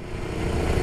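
A Hero Destini 125 scooter engine idles steadily right after starting, a close, continuous low mechanical rumble with no voices over it.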